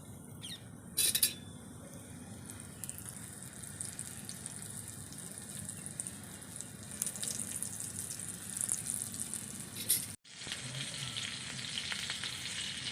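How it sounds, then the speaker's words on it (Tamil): Prawns frying in oil in a miniature pan, a soft continuous crackling sizzle held close and fairly quiet for the whole stretch, with a couple of brief bumps and a short cut near the end. "ப்ரான்ஸ் நல்லா ஃப்ரை ஆகிடுச்சு"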